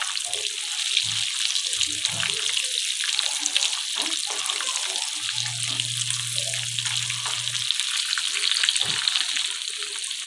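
Pieces of spicy fish fry in hot oil, making a loud, continuous crackling sizzle that holds steady throughout, with faint low clinks now and then.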